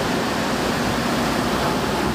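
Dense, continuous roar of large ocean waves breaking on a beach at sunset where surfers ride, loud and unbroken with no distinct individual crashes and no voices.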